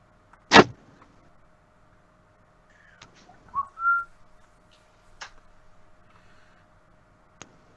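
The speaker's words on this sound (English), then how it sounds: "Some guy whistling." A man whistles a few short notes, with brief gaps between them. The whistling is faint and scattered over a quiet background, with one sharp click near the start.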